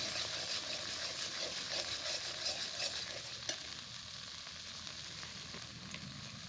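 Chili powder and turmeric are stir-fried with broccoli in a pan, a continuous soft sizzle with faint repeated stirring scrapes, fairly quiet and steady, without any speech.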